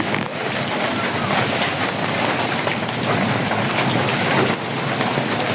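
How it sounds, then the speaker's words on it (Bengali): Heavy rain pours down in a village, a loud dense roar of drops drumming on surfaces that holds steady throughout, with a voice speaking faintly underneath. "এই বৃষ্টির মধ্যে"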